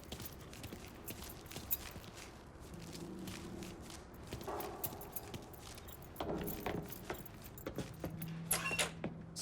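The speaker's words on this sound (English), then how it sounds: "Lincoln, pick up the keys" Keys jangle in the Mafia III video game, with a few metallic clinks and rattles amid soft footsteps and background vehicle rumble, fairly quiet and intermittent, no voices.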